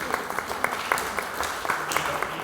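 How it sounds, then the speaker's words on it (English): Light applause from a community engagement audience, a small crowd clapping steadily for a couple of seconds with scattered individual claps standing out over a murmur of room noise. "Here, round of applause."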